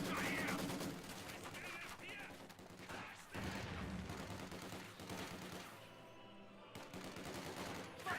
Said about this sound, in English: Maxim machine guns just ripping into those conscripts as they approach